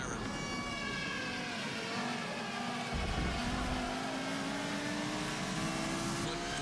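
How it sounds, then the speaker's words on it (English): Air raid siren wailing in Ukraine, a steady, sustained tone that drones on and shifts in pitch midway, with traffic or engine noise underneath and no talk. "Yes, I can hear the siren."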